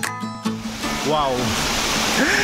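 Angel Waterfalls in Balutakay, Bansalan, Davao del Sur rush as a steady broadband roar heard from a viewpoint below, close and continuous, with excited voices talking over it.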